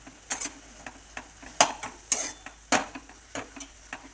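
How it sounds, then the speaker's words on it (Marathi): Peanut powder being stirred into fenugreek leaves cooking in a pan: a soft background sizzle broken by a series of sharp, irregular spoon scrapes and taps against the pan, fairly close and unaccompanied by talk. "भाजी शिजत आली की शेंगाद्यांचा कुट्टा पण घ्यायचं होतं परत एक जीव करायचा असा मिक्स करून घ्यायची"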